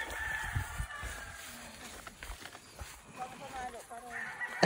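Chickens cluck and a rooster calls faintly amid outdoor noise, with some distant voices in the background.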